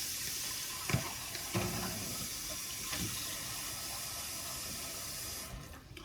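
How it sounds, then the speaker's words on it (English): Tap water runs steadily into a skillet sitting in a kitchen sink, a continuous hissing splash with a few small clanks near the start, then the flow cuts off at the end. "let me run some water in this skillet"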